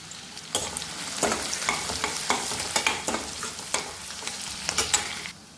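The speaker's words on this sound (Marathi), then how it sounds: "कांदा व्यवस्थित आपल्याला परतून घ्यायचा आहे" Chopped onion and cumin seeds sauté in hot oil, a steady sizzle broken by repeated scraping stirs of a spatula against the pan, close and fairly loud with no voices.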